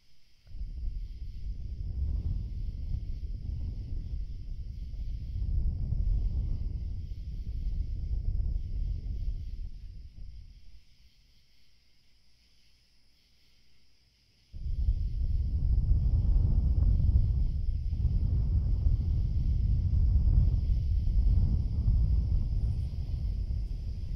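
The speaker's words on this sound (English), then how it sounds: "It is pretty windy out, though." Strong wind rushes past during flight in a fantasy roleplay, heard as loud, close gusty whooshes in long surges that drop to a quiet lull before roaring back.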